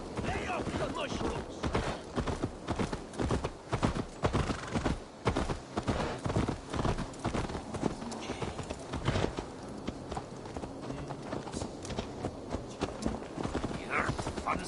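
Horse hooves clip-clop in a steady rhythm in Assassin's Creed Valhalla on PS5, mixed with game ambience and occasional sharp impacts, the clattering footfalls close and continuous throughout.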